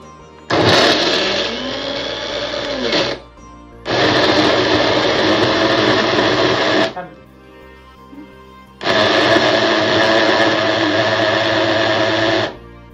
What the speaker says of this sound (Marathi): आता हे सगळं आपण बारीक पेस्ट करून घेऊया।